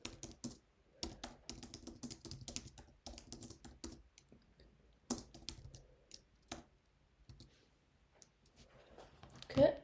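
Keys clatter on a computer keyboard while stock details are entered at a store operator's workstation, coming in quick close bursts with short pauses between them and a final louder clack.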